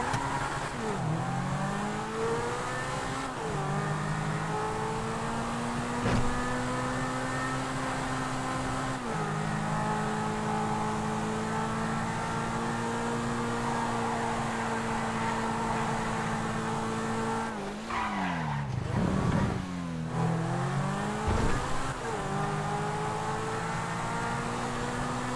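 Engine of the Cheetah, a two-door supercar in a video game, holding a loud, steady drone as it drives, with pitch shifts like gear changes and a revving surge near the end, no talking.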